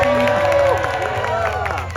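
A theater crowd cheers and whoops at a live holiday storytime show with Deadpool, a steady, loud roar of voices held throughout.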